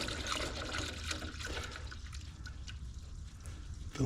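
Hot water pours and splashes into an ultrasonic cleaner tank, a steady gurgling stream with a liquid trickle that stays fairly close and continuous throughout, with no talking over it.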